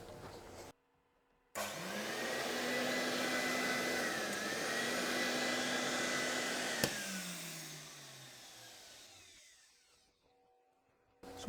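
Household vacuum cleaner with a detached flap switches on and whines steadily at close range, a rising tone settling into a sustained roar that winds down near the end, leaving brief silence.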